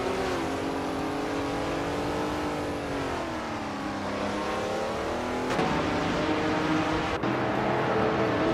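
Race car engines rev in a racing video game with vintage muscle cars such as the Plymouth Superbird and Dodge Dart, a loud sustained engine whine that sags and climbs in pitch, with a sharp shift near the end.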